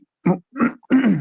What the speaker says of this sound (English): Sorry, I'm gonna clear my throat.